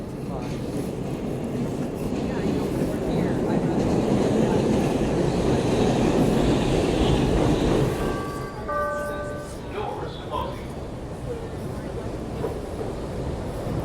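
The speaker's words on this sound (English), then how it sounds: "There's my train." A Chicago train rumbles into a station loudly and rolls to a halt, the heavy roar easing as brief tonal beeps sound near the end.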